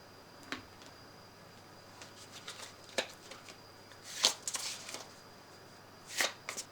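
Tarot cards are shuffled by hand in short, light riffling bursts with small ticks and pauses between them, quiet and close, with no talking.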